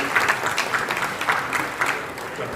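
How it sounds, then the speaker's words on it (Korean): Applause welcomes a director at a church assembly's court report session, and the clapping comes in brisk, slightly rhythmic bursts from a roomful of people. "우리 국장님이 수고하시고 있는데 우리 박수로 맞읍시다"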